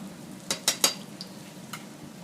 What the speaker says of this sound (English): Just stir it a little bit, just to make sure it doesn't stick.